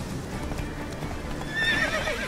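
A horse in the video game The Witcher 3 whinnies loudly over the clatter of hooves, the neigh rising clearly near the end of the short burst.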